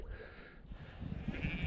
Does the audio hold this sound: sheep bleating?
yes